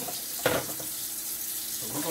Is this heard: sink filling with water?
yes